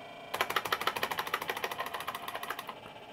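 A rapid pulsing mechanical hum from a flying saucer's gluon engine in the MS-DOS game UFO, steady rhythmic beats starting abruptly and continuing at a fast even rate.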